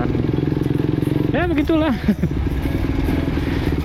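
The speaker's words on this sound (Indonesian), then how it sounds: "lihat denger aja suaranya lah, gitu kan. Jadi masih pakai knalpot racing" A motorcycle fitted with a racing exhaust idles with a loud, pulsing rumble close by, briefly revving up and back down in the middle while someone talks over it.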